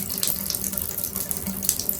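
Water keeps running from a dripping shower after the supply is shut off, a steady rushing, splashing flow that fills the whole moment without pause or voices.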